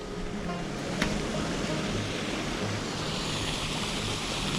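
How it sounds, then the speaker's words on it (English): Steady rushing and splashing of a small waterfall, a constant broad roar close by with one faint click partway through. "This beautiful little waterfall."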